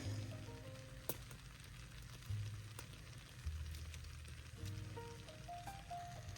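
Apple dessert mixture cooking in a pan with a soft, quiet sizzle and crackle, a few sharp clicks and light taps scattered through, no speech.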